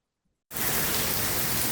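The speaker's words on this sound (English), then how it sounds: "so the rain's lightened up a little bit" After a brief silence, steady heavy rain from Hurricane Beryl suddenly starts, a dense, loud hiss of falling water that continues unbroken.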